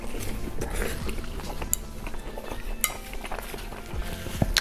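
A fork taps and scrapes against a plate of beans on toast in a quiet room, giving scattered light clinks of cutlery on crockery, close by and fairly faint, with no talking.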